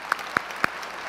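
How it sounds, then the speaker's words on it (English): A few sharp, scattered handclaps from an audience at a LabVIEW 2012 presentation, three quick distinct claps close together rather than sustained applause. "give applause for that"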